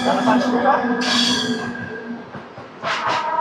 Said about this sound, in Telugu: మధురానగర్ నుంచి కూడా మన ట్రైన్ అయితే స్టార్ట్ అయిపోయింది